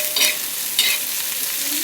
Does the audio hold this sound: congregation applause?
no